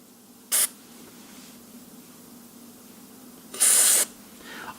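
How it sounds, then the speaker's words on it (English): DeoxIT D5 contact cleaner sprayed onto the switch contacts of a NuTone Model 2411 stereo remote intercom station: two short hissing bursts, a brief one and then a longer one, close up in a quiet room. "we're going to take our deoxit D5, and all we're going to do is carefully spray"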